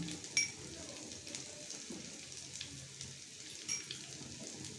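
Chicken mince sizzling in a pan with butter, a soft steady frying hiss with faint stirring scrapes and a couple of light clinks.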